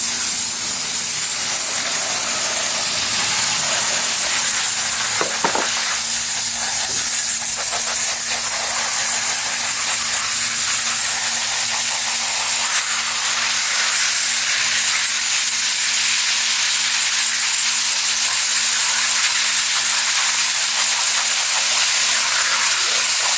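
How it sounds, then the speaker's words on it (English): A hose sprays water through a 20 mesh screen over gold panning concentrates, a loud, continuous hiss that stays steady throughout with a faint hum beneath. "put my 20 mesh screen, and then just hose this through."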